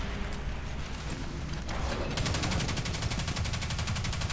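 Rapid automatic gunfire from a weapon in the Destiny 2 video game, steady repeated shots that get denser and more regular partway through, loud and close over a constant noisy game background.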